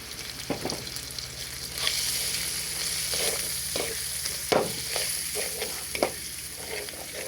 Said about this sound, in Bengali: মশলাটা কষানো শেষ, এখন আমি এই মগজগুলো দিয়ে দেবো।